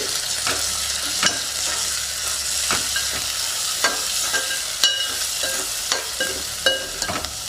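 Salt stirred into egg curry in a pan, a steady frying sizzle with regular scraping strokes of a spoon against the pan, fairly close and without any voices.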